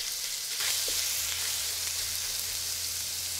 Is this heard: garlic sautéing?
yes